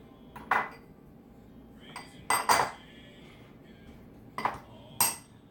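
Breading mixed with garlic and paprika in a bowl for fried chicken dredge, heard as a few scattered clinks and scrapes of utensil on dish, spaced bursts against a quiet background with no talk.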